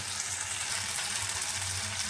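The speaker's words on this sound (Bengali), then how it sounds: "আমি কিন্তু একটু সবজিগুলোকে ভাজছি" Vegetables for an eggplant dish sizzle steadily in a pan, a dense continuous hiss that stays even and close throughout with no voices.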